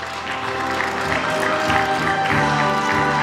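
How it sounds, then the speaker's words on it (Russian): Sustained, dense applause from an audience at the closing award ceremony of a 2009 Spassky–Korchnoi chess match, honoring Viktor Korchnoi; steady, full crowd clapping with faint voices mixed in. "Ваши бурные аплодисменты"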